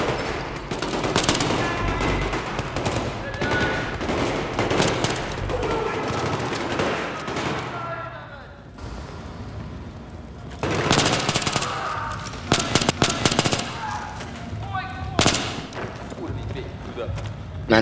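Gunfire in the video game Battlefield 3, with bursts of rapid automatic fire and heavy thuds, dense, close and loud in clusters, under a mix of game effects.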